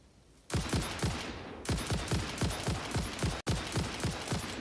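Rapid automatic weapon fire in the Satisfactory factory-building game, in three loud, close bursts of evenly spaced shots separated by brief gaps, with no talking.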